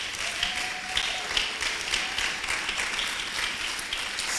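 A church congregation applauding in acclaim during a worship service, sustained, dense clapping from a large crowd that fills the room evenly at a steady level, with a faint tone drifting beneath.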